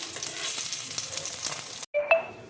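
Stuffed rice snacks fry in a pan with a close, steady sizzle and crackle of hot oil that cuts off abruptly, followed by a short high ringing tone.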